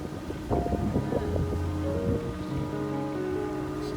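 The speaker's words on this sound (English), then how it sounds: "It's a troublesome wind today." Steady gusting wind roars across the microphone beside a narrowboat on a Birmingham canal, with low engine rumble and scattered knocks and creaks beneath it.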